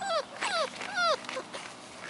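An Australian Shepherd puppy whines in several high, falling whimpers, close by, with short pauses between them.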